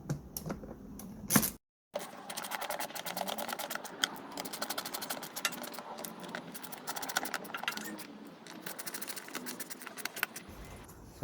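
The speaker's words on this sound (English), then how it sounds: "Just gonna tighten the screws now." Screws being tightened on a Suzuki SV650 motorcycle during a full service, heard as a long run of rapid, fine ratcheting clicks up close, steady for several seconds after a brief pause, with no voices.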